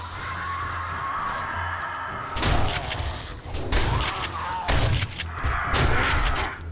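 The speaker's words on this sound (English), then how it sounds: "Start off with some shotgun work here" A shotgun fires in the zombie survival game 7 Days to Die during a nighttime horde: about five heavy, close blasts boom out in quick, uneven succession over a low ambient rumble.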